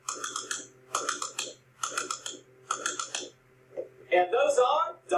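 Tap shoes strike a hard floor in double shuffle steps, four evenly spaced clusters of rapid, crisp clicks in a steady rhythm, followed by a voice at the end.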